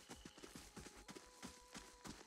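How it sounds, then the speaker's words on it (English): Horse hooves clip-clop in the video game Pillars of Eternity, an even rhythmic run of quick paired hoofbeats, faint and steady, with no speech. "Horse."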